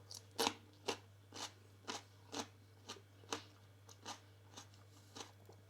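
Crisp, crunchy bites into a raw green pepper, tasted by mouth; about a dozen evenly spaced crunches roughly every half second, close and fairly quiet, with no talking.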